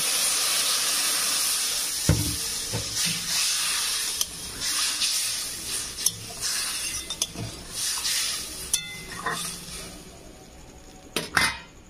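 Water poured onto frying spices in a pan for a Bengali koi fish tok sets off a broad steamy hiss. The sizzle gradually fades, with a few sharp clinks and knocks of utensils nearby.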